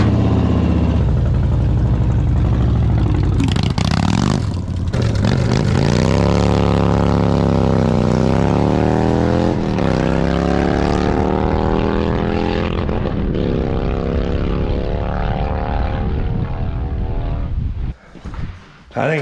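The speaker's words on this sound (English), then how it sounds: "Buddy's just got a Harley, eh?" A Harley motorcycle engine runs loud and close for most of the stretch, its pitch rising and settling as it revs, before cutting out near the end.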